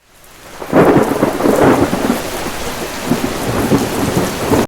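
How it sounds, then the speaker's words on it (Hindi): Heavy rain pours steadily while rolling thunder swells in after a moment, rumbling loudly and then easing off into a continuous downpour with no one speaking. "कुछ समय बाद बारिश हुई।"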